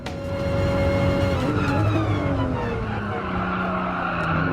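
Group 4 race car in Gran Turismo Sport, engine droning loud and steady with tire skidding and squeal, pitch shifting as the car works through a corner.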